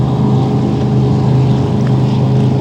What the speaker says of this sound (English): That is the barge pushing boat that gave us a ride.